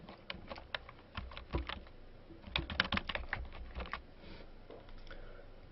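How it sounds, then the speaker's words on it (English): Quick, uneven clicks of someone typing an email address on a computer keyboard, close and soft, with bursts of keystrokes and short pauses. "I'm going to go ahead and type in"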